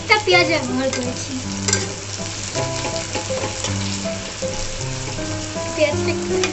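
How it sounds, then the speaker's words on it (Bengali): Sliced onions hiss and crackle steadily in hot mustard oil in a wok with dried red chillies, stirred now and then, close and fairly loud, with a steady hum and some tonal background sound underneath. "পেঁয়াজটা একটু ভাজা হবে"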